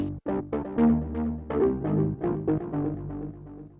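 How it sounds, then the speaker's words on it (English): A short synth melody with each note trailing into repeating echoes that smear together and fade, layered tones blending into a sustained wash. "send it into this simple delay"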